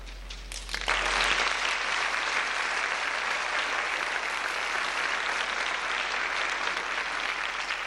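An audience at a National Honor Society induction ceremony breaks into dense, sustained applause that starts about a second in and keeps going evenly, heard from within a large room.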